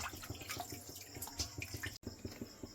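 Store-bought rasgullas are washed and squeezed by hand in water, making quiet, rhythmic sloshing and dripping with a brief pause partway through. Close and faint, with no voices.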